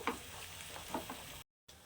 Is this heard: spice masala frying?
yes